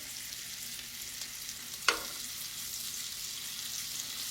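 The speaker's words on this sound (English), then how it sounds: "So I'm going to fry these" Beef tips fry in a pan on high heat with a steady, broad sizzle throughout, broken once by a brief sharp clink partway through.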